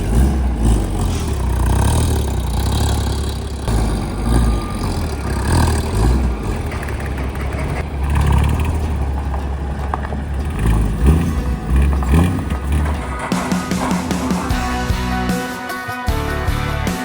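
A Porsche GT4 engine running after starting up, a loud steady rumble with rough shifts in tone, then a change to a brighter hum with a brief dip near the end.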